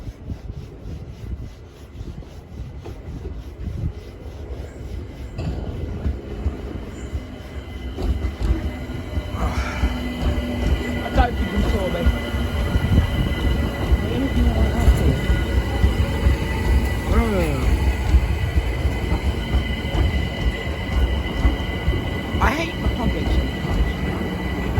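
Trains roll through Richmond and Clapham Junction stations, a long rising rumble of wheels and carriages with clanks and rail squeals, growing louder and staying near, while a voice talks now and then over it.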